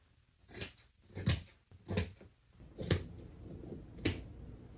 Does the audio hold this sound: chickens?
no